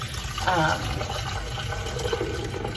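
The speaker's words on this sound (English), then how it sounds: "I have about 6 cups worth of water that I'm gonna go ahead and add to the reservoir." Water is poured into a coffee maker's reservoir, about six cups, during home brewing of a light roast; a steady close pour with brief louder gurgle early, under faint background noise.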